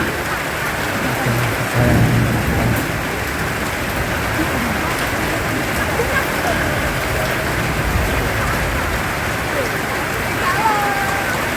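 Heavy rain pours down in a steady, loud roar that stays constant throughout, with no break in the downpour.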